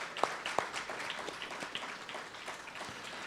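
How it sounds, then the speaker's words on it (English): Applause for an ambassador coordinator at a racetrack and casino event, scattered clapping from a small crowd, fairly faint and steady with a few sharper nearby claps. "So round of applause for Kelly Feehan."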